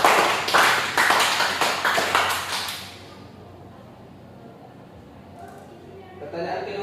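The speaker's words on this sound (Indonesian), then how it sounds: "tepuk tangan kepada diri kita" A classroom group claps for themselves, a short burst of brisk clapping for about three seconds that stops abruptly, leaving quiet room tone with faint stirrings.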